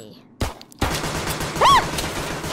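Gunfire crackles in a VR shooter game, with two sharp shot bursts followed by a dense, loud volley of rapid fire, while a voice speaks over it with a rising exclamation.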